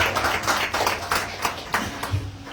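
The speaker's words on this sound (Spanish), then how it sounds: "Un fuerte aplauso al Señor." Church congregation clapping during a Sunday communion service, a loud rhythmic burst of hand claps in a steady beat lasting a couple of seconds, close and alone.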